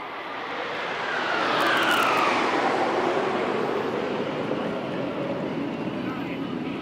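Indian Air Force Suryakiran aerobatic jets roaring overhead at an air show, a loud broad engine rush swelling and passing steadily for several seconds, with no talk over it.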